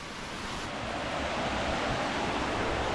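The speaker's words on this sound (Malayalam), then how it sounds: "ഈ തോടങ്ങ് മലയുടെ മേളിൽ നിന്ന് ഇവിടുന്ന് ഒഴുകി വരുന്നതാണേ" A mountain stream near Malayattoor flowing downhill, giving a steady, close, broadband rush of water with no breaks and no voices.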